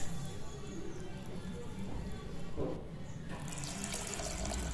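Water is poured into instant dosa batter in a kitchen, a faint, uneven splashing and trickling that comes and goes over a few seconds.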